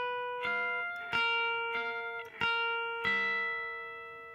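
Guitar finger exercise: six clear, separate plucked notes with ringing harmonics, spaced at an even, unhurried pace and played alone, close and clean.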